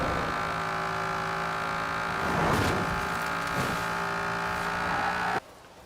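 A Dodge Dart tuned past 1,100 horsepower in Forza Horizon 4 accelerating hard, its engine note climbing in a loud sustained harmonic whine that surges midway and cuts off abruptly near the end.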